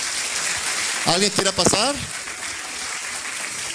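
Audience applause at a meeting, a steady patter of many hands clapping, briefly overlaid by someone speaking into a microphone midway.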